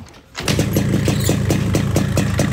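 A 2004 Yamaha RX King two-stroke motorcycle with a YP2 block and original exhaust fires up after a short cranking moment, then settles into a loud, close, rapid pulsing idle.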